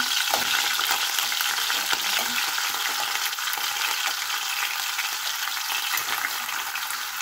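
Talakitok fish fries in hot oil in a pan, giving a loud, continuous crackling sizzle up close, with no talking.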